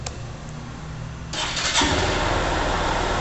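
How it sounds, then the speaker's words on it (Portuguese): Honda CG 125 Fan ES 2012 motorcycle fires up on its electric starter, a brief cranking then the engine catching around the midpoint and settling into a steady, close idle with no talk. "Partidinha elétrica"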